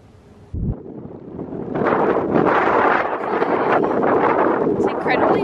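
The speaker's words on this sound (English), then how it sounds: "It's incredibly windy." Strong wind roars across the microphone on an outdoor horseback trail, a broad, steady buffeting that swells after a sharp knock and stays loud.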